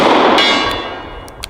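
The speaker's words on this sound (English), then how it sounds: "why don't we just break in the gong, see if I can figure out where to hold on it." A .44 Special revolver bullet strikes a steel gong target, ringing out with one loud metallic clang that decays slowly, followed by a couple of fainter distant pings.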